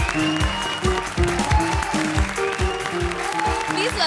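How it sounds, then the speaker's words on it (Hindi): Studio audience applause on a televised Hindi comedy show, heard loud and steady throughout under backing music with a rhythmic beat. "जोरदार तालियां"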